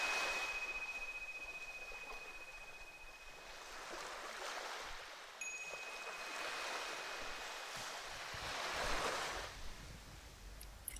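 Gentle ocean waves on an empty beach, soft and distant surf swelling and receding in slow washes, faint and low with a thin high tone briefly ringing over it.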